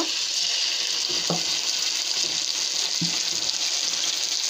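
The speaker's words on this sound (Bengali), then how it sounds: "তো ওখানে আদা জিরাটা দিয়ে দিব" Ground ginger and cumin paste dropped onto fried potatoes in hot oil, setting off a loud, continuous bright sizzle that holds steady throughout, with a couple of soft utensil knocks underneath.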